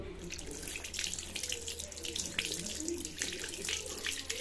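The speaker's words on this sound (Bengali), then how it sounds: "একটু হাতটা ধুয়ে নি।" Tap water runs into a sink while hands are washed, a soft steady splashing with small bursts and faint background voices.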